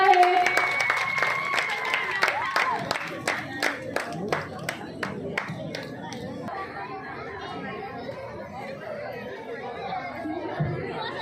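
An audience claps for an MLA, Shrimant Chhatrapati Shivendrasinh Raje Bhosale, at a local youth sports and cultural club's Gondhal event: a burst of sharp claps in the opening seconds thins out, leaving crowd chatter.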